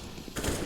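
AK rifle fire in Counter-Strike, a short burst of quick shots rolling together under crowd and caster noise, fairly faint and muffled.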